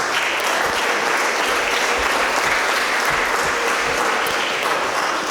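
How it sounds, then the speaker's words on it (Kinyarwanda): Steady, dense applause from an audience at a children's church patronage celebration, thanking a youth choir; the clapping stays loud and even for the whole stretch, with no pauses. "tubashimiye n'amashyi n'impundu."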